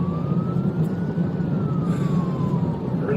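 Police car siren sounding during a high-speed chase, a single wailing tone slowly rising and falling over the steady roar of the moving vehicle, fairly close and persistent throughout.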